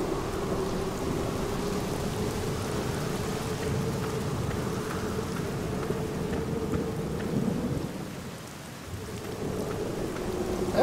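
Steady rain pours down with a low, rolling rumble of thunder underneath, dipping briefly before the downpour continues, at night by a graveyard in the video game The Black Mirror.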